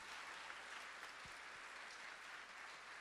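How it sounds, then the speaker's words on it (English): Applause for a Junior ROTC honor guard at a tribute ceremony, a steady wash of hand clapping from a crowd held at an even level throughout, with no talk over it. "how about another round of applause for this incredible honor guard from the Junior"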